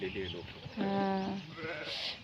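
A single sheep with little wool bleats up close at a herders' camp in the rainy season, a wavering cry lasting under a second, with people talking faintly around it.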